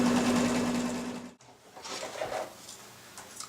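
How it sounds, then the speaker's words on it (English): An embroidery sewing machine stitches an appliqué flower design in a hoop, giving a loud, steady mechanical buzz that stops abruptly partway through, followed by quieter handling clatter. "So it's stitching around, creating that flower design again"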